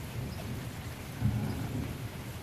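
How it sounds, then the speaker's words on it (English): Steady rain with a low rumble of thunder swelling midway, a dull continuous wash of rainfall close around and no voices. "hoping it stops raining eventually"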